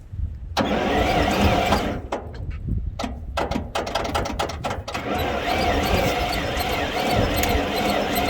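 An old Detroit diesel engine on a 65-year-old crawler, idle for 24 years, cranks through sputtering bursts, then catches and settles into a loud, steady close-up roar.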